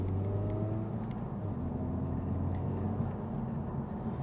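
Honda Civic Type R engine blipping to rev-match on a downshift, a close, steady droning engine note with a brief lift in revs under the cabin hum.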